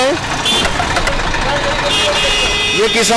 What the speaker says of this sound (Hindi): मेरे सहयोगी दीपक मेरे साथ ऊपर आ जाए ट्रैक्टर में